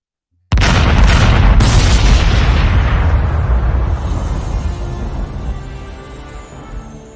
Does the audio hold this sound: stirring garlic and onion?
no